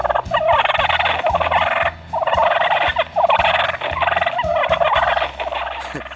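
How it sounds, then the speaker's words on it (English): Rapid, raspy turkey fighting purrs made on a game call, a steady stream of close, loud purring and clucking with brief pauses, like jakes squabbling. "Here's some fighting purrs."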